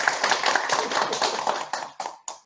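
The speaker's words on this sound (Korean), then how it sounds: "박수." Audience applause at a professor's retirement celebration, a brisk burst of clapping that thins out into a few last separate claps.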